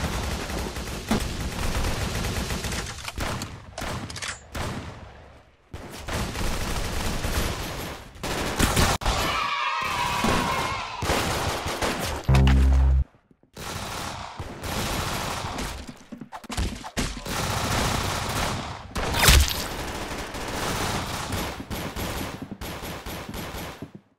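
Gunfire in the Roblox-style shooter video game Arsenal, long stretches of rapid overlapping shots and bursts with brief quiet gaps, some sharp impacts and a glassy shatter, loud and busy throughout.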